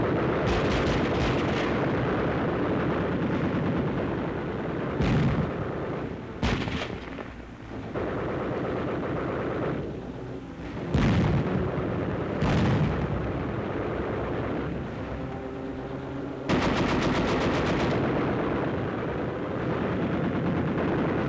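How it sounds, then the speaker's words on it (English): Machine gun fire in a 1944 wartime film as troops storm a Dutch field fortification near Moerdijk, loud continuous bursts and rattling volleys mixed with heavy blasts across a dense battle soundtrack. "Under cover of machine gun fire"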